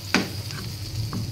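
Flour being lightly roasted in a pan, with a low steady hiss and a couple of soft scraping stirs, brief and close with no talk.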